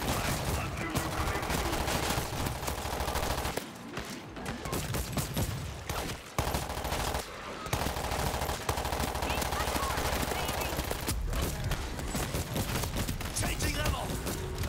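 Rapid bursts of automatic gunfire and explosions crackle almost continuously in the zombie shooter game World War Z: Aftermath, loud and dense, with brief lulls and some voices mixed in.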